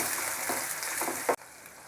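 Cashews and onions fry in a pan for a Chettinad chicken gravy, making a close, steady sizzling hiss that cuts off abruptly near the end, leaving quiet background; no one speaks.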